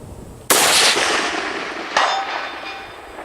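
A rifle fires at long range outdoors in Florida: one sharp, loud report with a long decaying tail, followed about a second and a half later by a second, weaker crack that also rings out.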